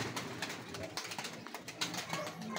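A pigeon that had its wing feathers plucked to speed molting coos softly amid scattered rustling and fluttering noises, the low calls fairly close and intermittent.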